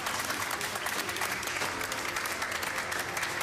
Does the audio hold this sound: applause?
yes